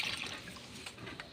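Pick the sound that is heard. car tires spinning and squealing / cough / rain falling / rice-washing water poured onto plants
rice-washing water poured onto plants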